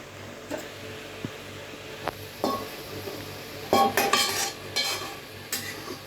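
Cooked cauliflower curry being spooned from a pan into a bowl, soft scraping and stirring with a few metallic clinks of spoon against the pan, getting louder toward the end.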